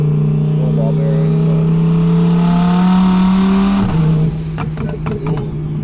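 A twin turbo Audi R8 driving, a steady droning engine hum with a rising whine that falls away near the end, heard from close by.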